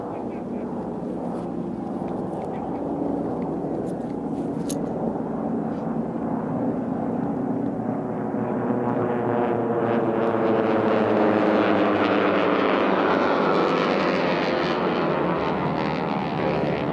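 T-6 propeller airplanes racing at the start of an air race, with a steady, loud droning roar of several engines that swells and shifts pitch as they pass close by, under a commentator's voice.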